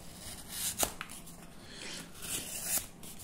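A Benchmade Mini Bugout knife blade cuts through cardboard sealed with tape, giving a few close, quiet scraping and snapping strokes with a couple of sharp clicks.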